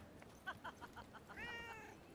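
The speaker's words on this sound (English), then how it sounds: "Another cat." Cat meowing in the Forspoken video game, a few short mews followed by a longer drawn-out meow, fairly faint and alone.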